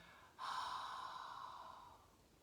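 A slow, steady exhale in a yogic breathing exercise, close and soft, starting abruptly and tapering gently over about two seconds with no talk.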